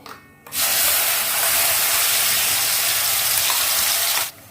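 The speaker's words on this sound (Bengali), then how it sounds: "এবার এই পেস্টটা আমি দিয়ে দেবো।" Spice paste hits a hot pan and erupts into a loud, close, roaring sizzle that holds steady for about four seconds, then cuts off sharply. No one speaks.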